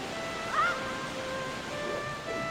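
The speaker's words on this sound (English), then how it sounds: "I thought the sound of the waves would drown it out." Ocean waves wash softly near a waterfall cave in the Zelda: Wind Waker video game, a faint, steady surf hiss with a few light melodic game tones chiming over it.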